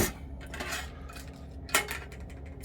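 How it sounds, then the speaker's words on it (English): Small metal camping cook pots and their lids are handled, giving light clinks and rattles with a few sharper metallic knocks, close by and with no talking. "So here's more little pots and cookery things."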